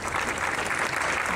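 Audience applause during a talk on free speech in Toronto, a steady dense wash of clapping from a crowd, fairly even in loudness throughout and heard on its own without voices.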